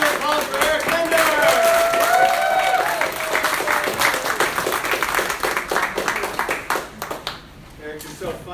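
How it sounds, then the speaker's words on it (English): An audience at the comedy roast of Christoph Kubitza bursts into a strong round of applause that slowly thins into scattered claps and fades out. "Big round of applause for Eric Linder."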